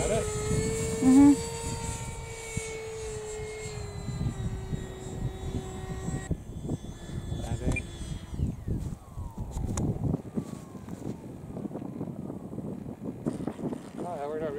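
An electric RC model Lippisch P.15 aircraft lands on grass, its propeller whine holding steady and then dropping in pitch as it comes down, over wind noise and scuffing, with people talking nearby.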